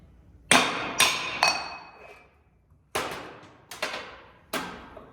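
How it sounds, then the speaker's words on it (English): Repeated metallic hammer strikes on a pry bar wedged behind the flywheel of a Briggs and Stratton Vanguard 250 small engine, three sharp ringing blows, a pause, then three more, each clanking close and loud with a short decaying ring. "get yourself your pry bar, get it in there all good, and then hammer on this a couple times"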